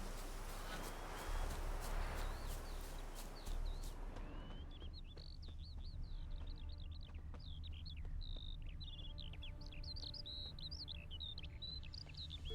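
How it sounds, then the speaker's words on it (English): Bird calls in the video game The Witcher 3, a series of bright high chirps and whistled tweets repeating irregularly after a burst of broadband noise, clear and moderately close against a quiet ambient background. "Man, what a bird sound."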